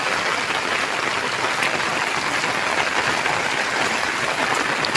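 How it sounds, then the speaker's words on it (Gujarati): Heavy monsoon rain pours down steadily over a village with a brimming pond and hills nearby, a dense, even hiss with no break across the whole stretch. "ખૂબ જ જોરદાર વરસાદ ચાલી રહ્યો છે"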